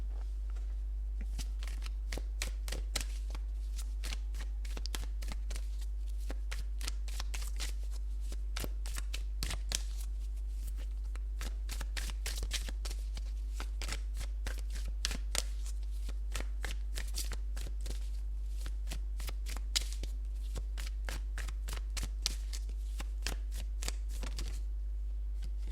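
Tarot cards shuffled and pulled from the deck, a long run of crisp riffling clicks and slaps at steady close range over a low constant hum, with no talking.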